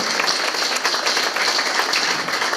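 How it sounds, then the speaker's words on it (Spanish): Steady, dense applause from a conference crowd, sustained and even in loudness throughout, with no voices standing out. "Nuevamente les pido un aplauso muy fuerte para quienes me acompañaron en esta mesa"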